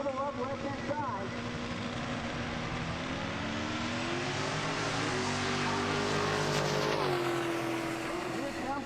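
A turbocharged drag racing car launches hard down the strip at a Summit Racing Midwest Drags event, its engine roaring loudly and steadily with a rising pitch toward the end, while an announcer talks over it.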